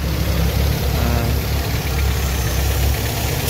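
A car engine running on LPG gas fuel idles with a steady, loud, low rumble and a faint ticking knock, close by and continuous throughout.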